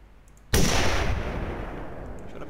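Single sharp rifle shot fired at a Dall sheep in a hunting video game, a sudden loud crack followed by a long rolling echo that slowly fades.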